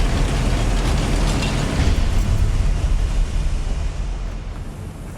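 A Confringo spell explodes in a Harry Potter video game as a loud, broad blast that roars at full force, then slowly fades over several seconds.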